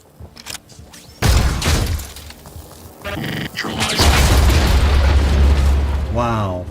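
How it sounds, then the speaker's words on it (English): Explosion in the video game Mutant Year Zero: Road to Eden, a loud booming blast that hits suddenly, followed by a second heavy rumbling burst that rolls on with crackling debris and a whooshing tail. "Wow, that explosion is something else"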